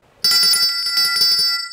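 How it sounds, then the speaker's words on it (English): A bright notification bell chime rings out suddenly after a short silence, a sustained metallic tone with a rapid ringing pulse that holds steady, then begins to fade at the end, with no voices. "hit that notification bell."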